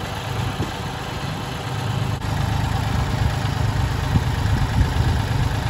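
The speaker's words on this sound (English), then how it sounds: "I'm gonna back the tractor right up to the tailgate" A compact tractor engine idles steadily nearby, a constant chugging rumble with no speech.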